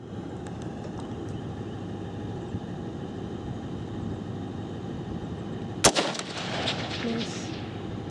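A rifle fired with a Primary Arms ACSS scope lets off one sharp, loud gunshot partway through, followed by a brief echo, over steady outdoor background hiss.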